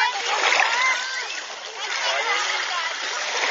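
A child splashes in water while bathing, with steady, close splashing and sloshing throughout and adults talking over it.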